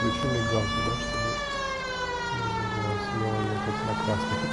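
A police car siren wails in a video game, a loud rising and falling electronic tone that sweeps smoothly up and down in repeated cycles, steady and close throughout with no talking.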